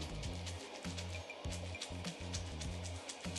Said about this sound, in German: So, das Squish-Geräusch ist wieder da und das hört sich so an.